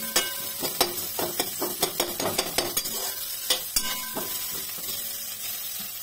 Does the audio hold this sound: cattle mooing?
no